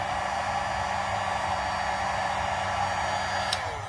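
Heat gun blowing hot air onto a plastic coin tube, a steady, even whooshing hiss held at constant level for the whole stretch, close up, with no voices.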